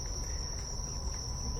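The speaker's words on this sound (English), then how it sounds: "Listen to the sound of the summer cicadas." Summer cicadas in a horror film drone with a steady, high, shrill buzz that holds unchanged throughout at a fairly faint level.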